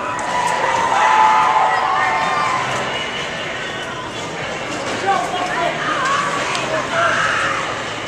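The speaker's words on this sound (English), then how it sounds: "give him a round of applause" A crowd at a relay world final cheers and applauds for Nick Cook, a loud, sustained wash of voices and clapping with shouts that rise and fall throughout, and an announcer's voice mixed in.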